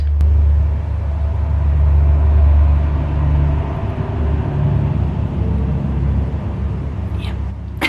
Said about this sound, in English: Let's wait for the truck to go past.